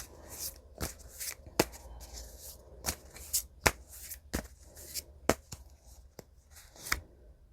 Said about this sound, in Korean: 1개월, 3개월, 6개월 이렇게 세상의 카드를 뽑아보도록 하겠습니다